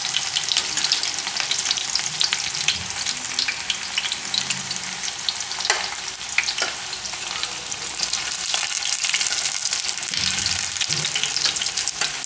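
Oats and spinach tikki roasting in oil in a pan, a steady bright sizzle and crackle that runs continuously, close and fairly loud, with occasional soft clinks of a utensil.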